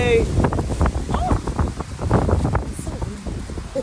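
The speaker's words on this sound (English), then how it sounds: "Really windy." Steady wind buffeting a nearby microphone, a rough low rumble that persists throughout with gusty swells, while people talk over it.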